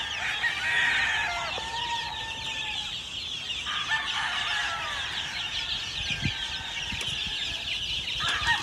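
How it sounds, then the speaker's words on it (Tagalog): Chickens cluck and roosters crow on a gamefarm holding hundreds of birds. Overlapping calls form a busy, continuous chorus at moderate distance, with no one talking. "More than 400 chickens."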